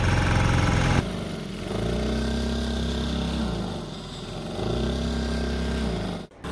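A motorboat engine drones steadily on the water at close range, its low hum dipping and swelling across the ride, with a brief drop near the end; a voice greets briefly under the engine.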